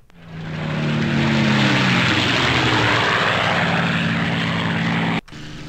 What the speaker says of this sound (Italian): Sta già surriscaldando il motore.